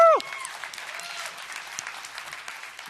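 A conference audience at AWE 2023, an augmented reality event, bursts into applause for the organizers, a steady wash of clapping across a large hall that follows a short whoop at the start.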